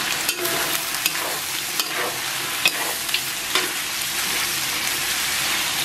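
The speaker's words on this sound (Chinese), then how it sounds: "咱们把五花炒至微焦变色啊，然后把鸡肉给它下到锅中，然后把葱姜给下到锅中" Pork belly, chicken pieces, scallion and ginger sizzle loudly in a hot wok, a constant close crackle of frying broken by the scrape and clack of stirring.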